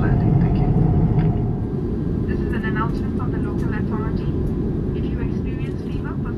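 Steady, loud roar and rumble inside a Cathay Pacific airliner cabin during descent into Kuala Lumpur, continuous throughout with faint voices talking underneath.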